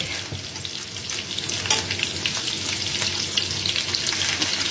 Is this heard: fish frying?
yes